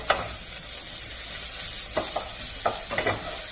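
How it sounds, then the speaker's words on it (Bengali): Garlic paste fries in hot oil with a steady low sizzle, while a spoon stirs and scrapes the pan in a few short strokes. "একটুখানি ভেজে নিচ্ছি, রসুনটা যাতে কাঁচা গন্ধটা চলে যায়"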